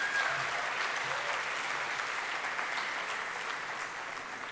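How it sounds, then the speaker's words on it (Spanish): An audience at a peace-themed launch event and concert gives a continuous round of applause, even and fairly close, lasting a few seconds with no speech over it. "Vamos a darle un aplauso a esta Abril viajera."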